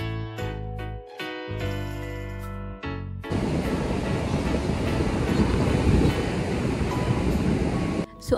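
Strong sea waves at Paradeep beach on the Indian coast, a loud continuous surf roar with steady wash filling most of the stretch after a brief opening of tonal jingling sounds.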